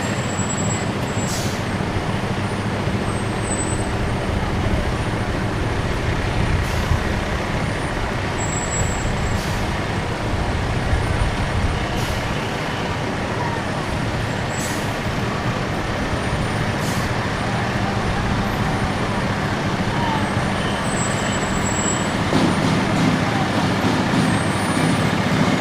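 Fire company trucks drive by in a parade, a loud, steady diesel drone up close, with the hiss of air brakes and a bit of faint talk.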